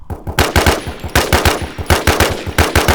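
Short controlled bursts of automatic gunfire in the video game Infestation, loud and close, fired in tight groups of about three shots with brief gaps between each burst, no voices.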